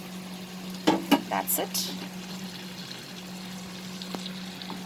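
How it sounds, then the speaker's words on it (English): A tablespoon of water goes into a hot pan of cooking spices for a bitter gourd and shrimp dish, giving a few quick splashes and a brief sizzle over a steady low hum, with a short spoken phrase. "We'll just add a tablespoon of water."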